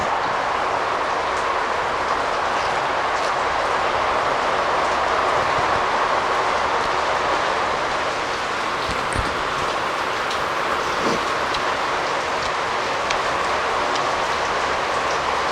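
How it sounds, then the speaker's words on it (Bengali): Heavy rain pours steadily during a meal of mutton biryani, a dense continuous hiss that stays loud and even from start to finish, with a few faint clinks and bumps. "আজকে বৃষ্টির আওয়াজটাই তোমরা বেশি পাবে"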